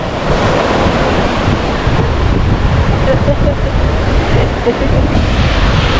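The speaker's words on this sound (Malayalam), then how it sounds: "തെര വരുന്ന കണ്ട തെര തെര തെര വലിയ തെര" Big sea waves break and roll in a continuous loud roar at the seashore, with gusty wind rumbling across the microphone.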